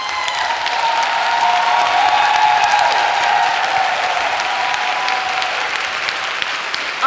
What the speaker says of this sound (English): So please stay on your feet and let us applaud Emerita Wells, Spelman College class of 26.